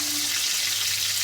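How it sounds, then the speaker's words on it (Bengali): Pieces of pointed gourd frying in hot oil, a dense, continuous sizzle heard up close and alone. "তো আর একটু ঢাকা দিয়ে কিন্তু ভেজে নেব"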